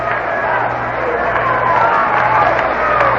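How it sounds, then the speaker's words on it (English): Crowd of baseball fans at Yankee Stadium during an Indians game, a steady dense roar of clapping and murmuring voices heard from within the stands, continuous and fairly loud throughout. "Fans trying to get something started here as they start to clap"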